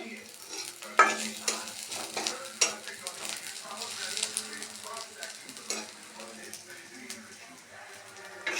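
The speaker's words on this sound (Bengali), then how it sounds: "এখানে পেঁয়াজ ভাজা হচ্ছে।" Onions fry in a pan while a duck-egg curry with ground spices is being cooked; a steady crackling sizzle runs throughout with occasional utensil stirring and clinks, close and moderately loud, with a voice present at times.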